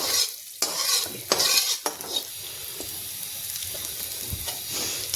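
Fenugreek seeds and garlic fry in oil in a pan for kadhi, giving a soft continuous sizzle broken by a few spoon scrapes and stirring clatters at the start, fairly quiet and without talk.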